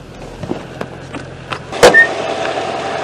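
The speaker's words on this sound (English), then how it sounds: "So you pull the mole grip and it pops the bonnet." The bonnet of an old Mercedes with a 4.3-litre V8 is released by pulling a mole grip fitted in place of the broken release handle: quiet handling sounds, then one sharp mechanical clunk and a brief rattle, close by.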